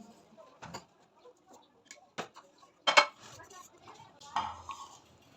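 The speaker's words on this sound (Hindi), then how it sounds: "ये पूल मखाने पिसे हुए और बाकी सब इंग्रेडिएंट्स इसी के अंदर मिक्स कर देंगे" Ground fox nuts (makhana) being mixed with other dry ingredients in a bowl, giving soft, scattered clinks and scrapes of a spoon against the container, quiet and intermittent with a few sharper taps.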